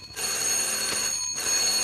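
An old-fashioned office telephone rings in a continuous bell burst that runs almost the whole moment, loud and close, with no voices over it.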